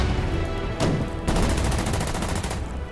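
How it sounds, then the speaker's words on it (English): Rapid bursts of gunfire aimed at a tank in a World War II strategy game set in Burma, loud and continuous, with a sharper volley partway through and no talk over it. "Just take a shot on the tank."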